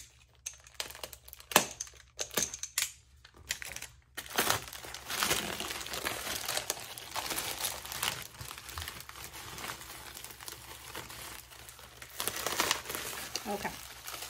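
A taped-up wrapped package being unwrapped, with crinkling, crumpling and tearing of paper and tape, fairly close and continuous, under occasional talk.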